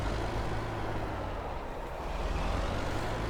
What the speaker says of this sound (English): You leave room for the truck to turn too.